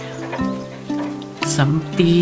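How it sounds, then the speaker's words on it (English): Geese call at a lake in summer, a series of honking, clucking notes with tonal bends, fairly loud and close, several overlapping calls in quick succession with no talk. "listening to the sounds of the lake and the geese around me"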